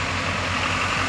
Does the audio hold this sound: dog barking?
no